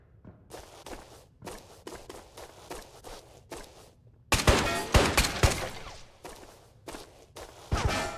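Rapid blasts from the Street Sweeper shotgun in the video game Ghosts of Tabor, a loud cluster of shots in the middle, with lighter repeated thumps and footsteps before and after.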